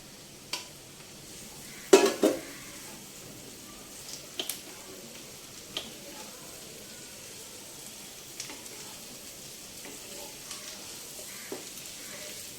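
Boiled cabbage cooks down in oil with softened onion in a pan for a Telugu cabbage dish, giving a faint steady sizzle broken by sharp clinks and scrapes of a spatula against the pan.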